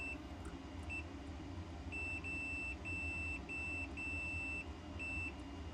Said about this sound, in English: This is beeping.